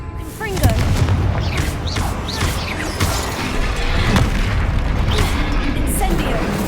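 Bombarda and Confringo spell blasts in Hogwarts Legacy during a troll fight, heavy booms and crashes layered under shouting voices, dense and loud throughout.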